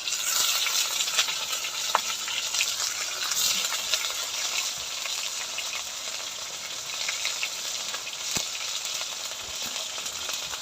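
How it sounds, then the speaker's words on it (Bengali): Ginger garlic paste sautéing with tomatoes in a pan for a vegetarian soybean curry, a continuous bright frying hiss broken by occasional sharp spatula taps and stirring scrapes, close by and steady, with no voices. "ভালো করে কষিয়ে নিয়ে আদা রসুন বাটা"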